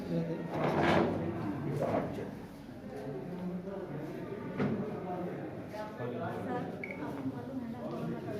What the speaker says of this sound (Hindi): थोड़ा सा कुर्सी इधर कर लेते हैं।